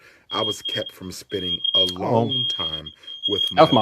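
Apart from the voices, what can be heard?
smoke alarm beeping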